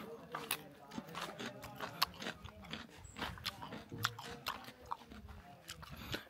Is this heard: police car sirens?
no